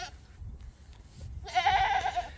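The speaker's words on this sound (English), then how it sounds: "She was one of my favorite goats." A goat from a Florida homestead gives one wavering bleat near the end, loud and close, after a stretch of quiet background noise.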